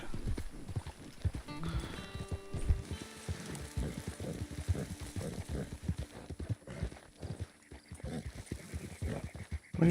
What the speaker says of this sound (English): Come on horse, go forward.